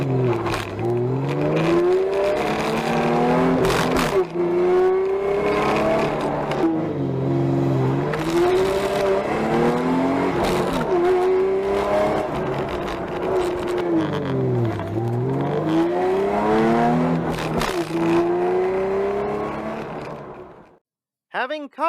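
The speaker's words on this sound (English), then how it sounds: "When I rev the engine, the shifter moves less than before." Ford Mustang from the 1999–2004 era revving repeatedly, its engine note sweeping up and down in several rising and falling pulls, with a faint rattle from the shifter under the roar, close and loud, cutting off at the end.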